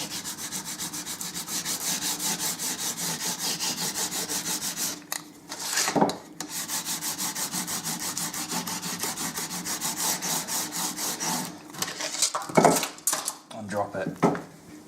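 A small inlay piece is burnished with a hard tool in fast, steady back-and-forth rubbing strokes, close and continuous, broken by a few brief pauses and scrapes.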